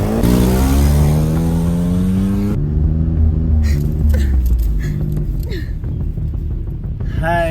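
A car engine revs and pulls away, loud and close, the pitch rising steadily as it accelerates, then fading under background music with brief voices.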